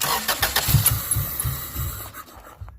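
A Honda Accord engine cranks with a rapid chugging rhythm for about two seconds, then stops abruptly; loud and close.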